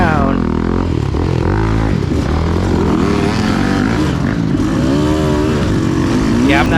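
A KTM 200 dirt bike runs along a hare scramble course, its two-stroke engine buzzing and warbling loudly with rapid revs and throttle changes throughout, close to the rider.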